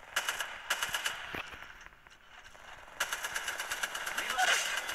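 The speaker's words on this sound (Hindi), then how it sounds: "ओपन फायर कर रहे भाई" Rapid automatic gunfire from Apex Legends rattles in quick bursts early on, eases briefly, then returns as a longer, denser stretch of shots that stays loud and close.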